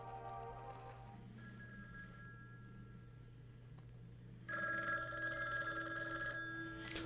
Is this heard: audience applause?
no